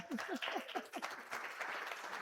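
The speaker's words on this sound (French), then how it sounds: "J'adore, on peut applaudir les petits culs." A small group at a quiz game applauds a team, brief dense clapping mixed with quick rising vocal whoops and cheers near the start, at a moderate-to-faint level, lasting only a couple of seconds.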